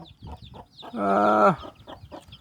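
A purebred chicken gives one short, drawn-out call up close, standing alone between quieter rustling farmyard sounds.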